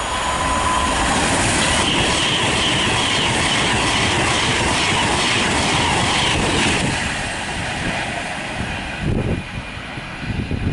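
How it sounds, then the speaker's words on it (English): Virgin passenger train, a class 390, passing through Nuneaton station on the West Coast Main Line, a loud sustained rush of wheels and rail noise with rhythmic clatter and faint squeal, easing slightly toward the end. "passing now will be a Virgin train service from London Euston to Liverpool South Parkway"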